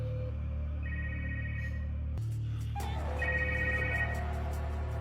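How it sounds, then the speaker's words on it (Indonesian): A council member's mobile phone rings with a repeating electronic ringtone melody, steady and fairly loud, the tune shifting partway through against a low hum, with no talking. "ponsel milik salah satu anggota dewan pun berbunyi saat Jilong menghubungi nomor tersebut"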